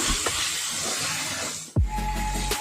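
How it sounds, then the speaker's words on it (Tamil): Tomatoes sizzle hard in hot oil with ginger-garlic paste while sautéing for a Tamil chicken kuzhambu, a loud continuous close hiss broken by one brief clatter partway through. "இப்போ இதில் நம்ம தக்காளி சேர்த்துக்கலாம். தக்காளி நல்லா வதங்கட்டும்."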